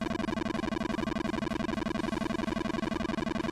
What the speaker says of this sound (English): When you beat a stage, the remaining time gives you extra points, which for the ZX Spectrum version sounds like this.